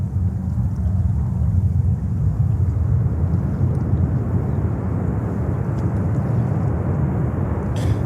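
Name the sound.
Cathay Pacific airliner passing at JFK Airport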